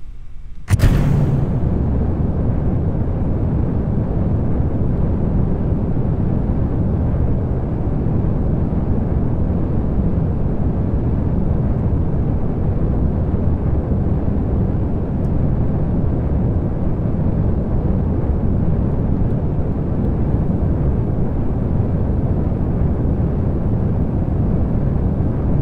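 In the video game Kerbal Space Program, a rocket engine fires at full throttle for launch: a sudden ignition, then a dense, unbroken roar that holds steady and loud throughout.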